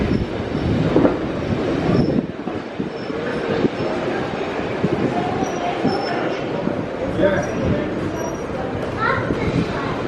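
A heritage steam-railway train pulls into Llangollen station, with a steady rumble of rolling stock and faint wheel squeals throughout, and people talking nearby over the train noise.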